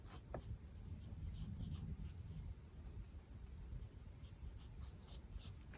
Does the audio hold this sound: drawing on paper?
yes